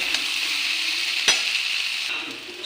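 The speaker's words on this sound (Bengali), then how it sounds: "গরম মশলার গুঁড়ো সব উপকরণগুলি মিশিয়ে নিই" Spice powders and other ingredients, with a little ghee, are stirred together in a hot pan for a vegetarian green papaya dish. A steady close sizzling hiss is broken by one sharp scrape of the spoon.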